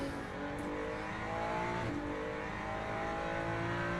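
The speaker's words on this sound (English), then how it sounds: "That was rev limit." A Ferrari GT3 race car in the sim racing game Le Mans Ultimate revs hard. Its engine note climbs to a buzzing rev limiter, briefly dips on a shift, then drones on steadily at a fairly quiet, even level without talk.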